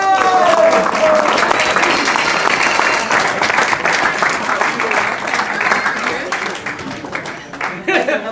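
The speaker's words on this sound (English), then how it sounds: "Big round of applause for Marion!" Wedding guests break into a loud, dense round of applause at a reception, steady clapping filling the room with some voices mixed in, thinning toward the end.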